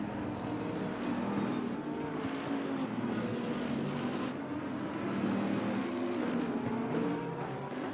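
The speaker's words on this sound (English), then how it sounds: "A beautiful sound as these GT3 cars kind of purr their way around." GT3 race cars in Assetto Corsa Competizione at Bathurst run in a full pack in single file up the mountain through the cutting, a steady, dense engine drone holding constant throughout with no talk.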